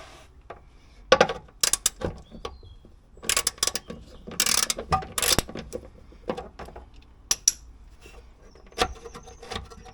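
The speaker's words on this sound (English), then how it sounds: "So just get this 8mm bolt off and that'll come down." Ratchet clicks in short bursts as an 8mm bolt is worked loose under a Ford Mondeo Mk3 ST220, with scattered metallic clatter and rubbing between the runs of clicks, close and moderately loud, no talk.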